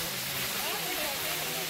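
The Acquacheta waterfall at San Benedetto in Alpe gives off a steady, broad rushing hiss of falling water, continuous and fairly close.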